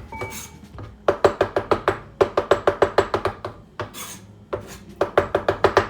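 A kitchen knife scrapes chopped egg whites on a cutting board in brisk rhythmic bursts of short strokes, close and fairly loud, with a few pauses between runs.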